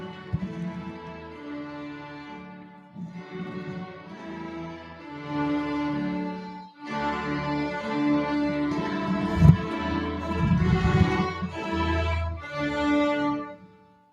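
A student string orchestra at a spring school concert plays a melody as a duet, with sustained bowed tones in two voices moving through phrases separated by short pauses. Fairly full and resonant, with no talking.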